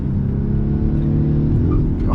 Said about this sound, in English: when the car gets light, it just spins up the tires